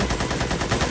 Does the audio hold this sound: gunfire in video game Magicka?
yes